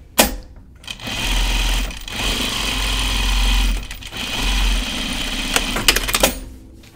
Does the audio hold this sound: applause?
no